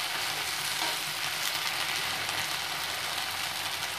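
Ripe ivy gourd cooks with tamarind in a frying pan. A steady, moderately loud sizzle of hot oil continues without pause, and no one speaks.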